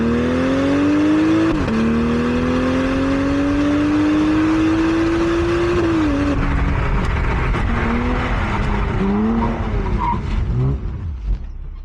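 A 2025 BMW M440i xDrive coupe engine revs hard through the gears, its rising drone climbing in pitch, dropping at each shift, then climbing again. It is loud and close.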